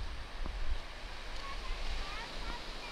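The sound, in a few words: gulf waves on Captiva beach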